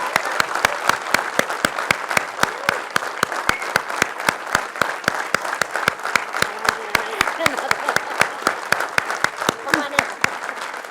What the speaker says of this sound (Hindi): ताली ताली ताली, रुकना नहीं चाहिए।